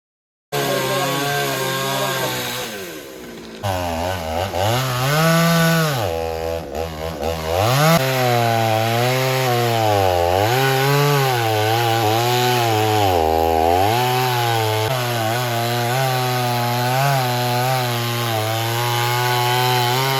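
A chainsaw cuts into a coconut tree, its engine whining loudly and steadily for about twenty seconds. The pitch rises and falls as the blade bites into the wood and eases off, with one short dip near the start.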